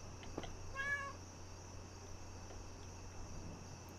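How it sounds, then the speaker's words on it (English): A single short cat meow in the horror video game Nightmare of Decay, heard once near the start against a steady low hum and faint high ambient tones, with no voices. "You see a cat sitting on the railing at the top of the stairs."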